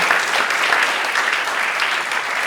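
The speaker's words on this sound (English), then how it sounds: "please give them a round of applause for all the work that they do." A town hall audience in Carlsbad with Congressman Mike Levin breaks into loud, dense applause that holds steady as a continuous wash of clapping, with no speech over it.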